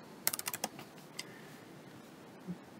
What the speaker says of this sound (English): now when I type in bump switch